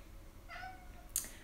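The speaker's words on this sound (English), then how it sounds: "So he just meows at the door constantly." A neighbourhood cat meows outside a door: a short, fairly faint drawn-out meow partway through, followed by a brief sharper sound, against a quiet indoor background with no talking.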